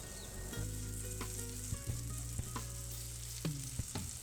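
Cabbage and egg fritter batter sizzles and crackles in a hot, unoiled pan, a steady frying hiss punctuated by a few light clicks and taps of a utensil.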